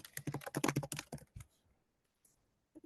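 Typing on a MacBook keyboard: a quick, dense burst of soft key clicks for about a second, then a final tap and near silence.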